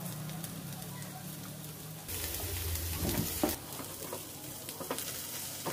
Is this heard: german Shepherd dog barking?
no